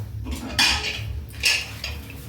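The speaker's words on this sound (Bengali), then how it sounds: "তো এখন আমি এর ঢাকাটা বন্ধ করে দেব" Lid being closed on a pressure cooker while steaming prawns, with two clattering metallic clanks of lid on pot over faint background noise.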